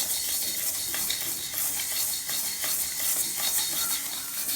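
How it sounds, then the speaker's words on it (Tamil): Lentils are dry roasted in a bare iron pan, giving a continuous close scraping and rustling as they are stirred, with faint sizzle-like crackle throughout. "வெறும் இரும்பு வாணலியில் இந்த பருப்பை லேசாக வறுக்கணும்"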